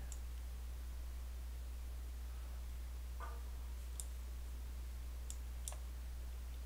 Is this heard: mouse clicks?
yes